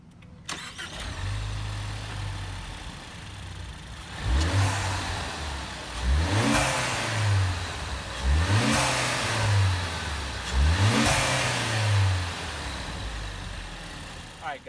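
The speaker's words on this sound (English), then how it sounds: "This is that 2-liter inline-4 turbocharged motor, direct injected, putting out over 250 horsepower" Ford Focus ST with a direct-injected 2-liter turbocharged inline-4 revs repeatedly in the engine bay, four sharp rising blips spaced about two seconds apart over a steady idle, close and loud.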